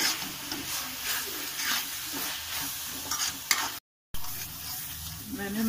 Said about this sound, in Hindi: मैंने मसाला अच्छी तरह से भून लिया।